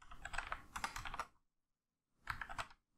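Two bursts of fast, close keyboard typing while entering script code for a liquid pour effect in Unity, separated by a short silent pause, with no speech.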